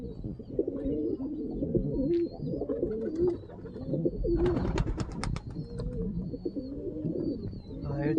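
Fulshira pigeons coo in repeated soft, throaty rolls close by, joined by a brief burst of wing flapping partway through, with someone talking at low level underneath.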